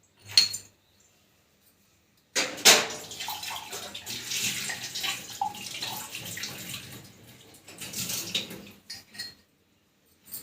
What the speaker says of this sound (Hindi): और ये करवा, इसमें एक बार पानी से धो लेती हूँ।